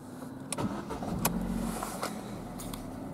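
A Ford Focus 1.6 Zetec petrol engine cranks and catches, then settles into a steady idle, heard close by with no talking.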